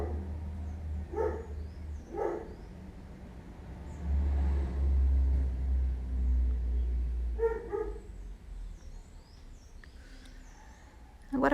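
A dog barks a few times in the background, short clustered bursts spaced out over a steady low rumble like passing traffic, during a Christmas fox craft session.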